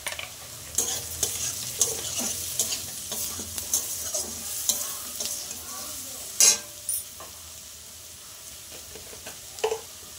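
Eggplant frying in a pan with turmeric added crackles with a quiet, steady sizzle, punctuated by brisk stirring scrapes and a few sharp clinks of a utensil against the pan.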